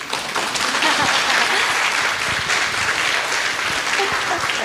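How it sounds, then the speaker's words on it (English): A seated audience gives a sustained round of applause for the speaker at the end of a talk to youth trainers, with dense, even clapping that holds for several seconds. "And one big round of applause to the speaker."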